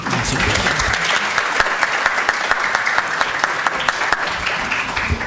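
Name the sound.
audience applause welcoming the dean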